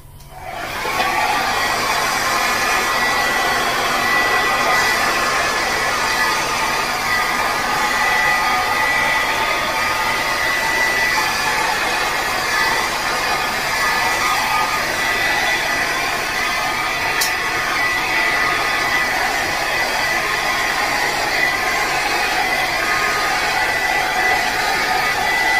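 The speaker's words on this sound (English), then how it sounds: "And now I'm going to take my blow dryer and blow this out." A handheld blow dryer blasts over a freshly poured acrylic paint canvas. Its loud, steady whirring roar starts abruptly and runs unbroken for the whole stretch, with no talking.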